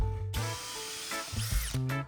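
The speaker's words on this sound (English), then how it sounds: "Some drilling" Power drill boring into good-quality wood for a restored old wooden front door, with a whining motor that starts, pauses and restarts in short bursts, close and clear.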